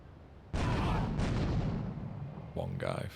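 In GTA, a heavy grenade or rocket blast erupts loud and close, roaring on for a couple of seconds before a second burst hits near the end, with a voice briefly audible underneath.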